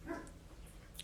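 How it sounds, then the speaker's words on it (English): A pet dog gives a short, faint bark or two somewhere in a quiet indoor room, distant and soft against near silence. "I'm sorry for my barking dog"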